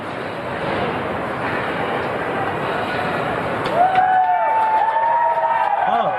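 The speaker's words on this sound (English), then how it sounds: "Wait, they're cheering for him." Workers in a Ford Rogue factory complex in Detroit cheer and clamor steadily as Donald Trump tours the plant, a dense roar with shouts and whistles rising toward the end.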